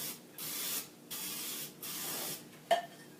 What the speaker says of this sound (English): I'm just going to give a couple pumps to my kitchen spritzer